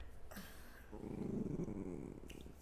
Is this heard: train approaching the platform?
no